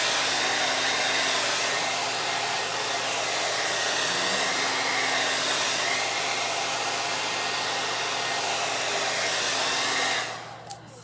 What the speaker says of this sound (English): and then blow dryer and blow dry it